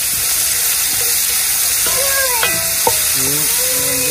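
Onions sautéing in a pan for a pork curry: a steady hiss of sizzling fills the background, with a few scattered clinks of a utensil and faint tonal sounds on top, all at an even close level.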